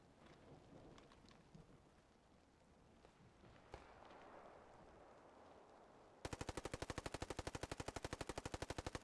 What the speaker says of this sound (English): Suppressive fire there onto the upstairs windows.